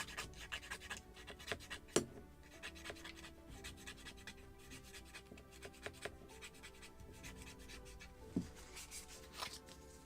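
Fine 240-grit sandpaper rubs over a small wooden part of a Midwest kit model of a Muscongus Bay lobster smack being tapered, giving soft, close scratchy strokes in an uneven rhythm with a few sharper scrapes.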